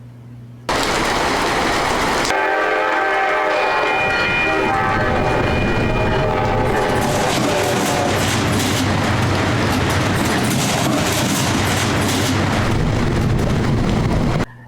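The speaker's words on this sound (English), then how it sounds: "turn up the sound of the train a little bit more" A train rumbles loudly past with a long horn blast and clattering wheels, the rushing noise steady and close throughout.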